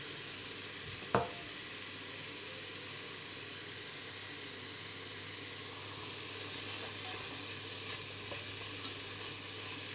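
Meat fries in a multicooker with a soft, steady sizzle and hiss, fairly quiet; a single sharp stirring knock sounds near the start, then the frying continues alone.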